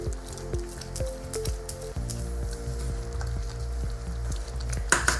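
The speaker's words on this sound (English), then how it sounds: "this quinoa is dragging. So I'm going to stir it a little bit more" Quinoa stirred in a pot during meal prep, a steady wet sizzle and soft scraping with repeated rhythmic stirring strokes, close and moderately loud, no talking.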